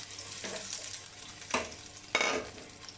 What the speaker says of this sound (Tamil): இப்போ ஃபஸ்ட்டு வந்து இந்த தேங்காய் சில்லை ஃப்ரை பண்ணி எடுத்துக்கலாம்